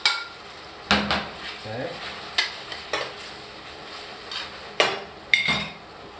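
Veal and mushrooms being returned to a hot pan for veal Marsala, with a low sizzle broken by several sharp clinks and clatters of utensils against the pan, and a brief word spoken partway through.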